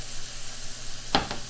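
Five turkey burgers sizzle in a frying pan over medium-high heat, a steady close hiss with a couple of sharp pops near the end and no talking.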